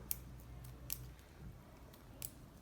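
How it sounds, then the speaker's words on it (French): Scissors cut through a scarf at a craft table, giving a few faint, sharp snips spaced about a second apart over a quiet, low background. "je vais prendre ma paire de ciseaux"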